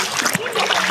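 People splash in cold stream water while bathing at a nature camp, short irregular splashes and a trickling flow close by, with voices talking over them throughout.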